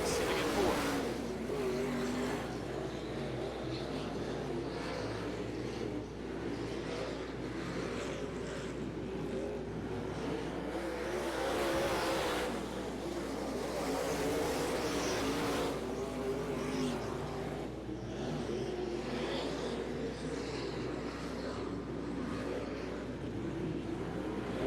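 Race cars roar around the turns of a short oval speedway, a steady, distant engine drone with swelling passes, heard beneath a voice talking.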